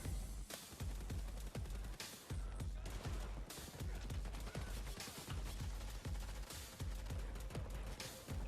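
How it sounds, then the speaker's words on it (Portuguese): A first-person shooter plays loud, rapid bursts of gunfire with a regular rhythm, sounding like automatic weapons, with brief gaps between the volleys. "Mostrou um cara atirando do lado dele"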